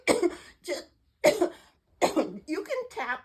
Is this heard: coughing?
yes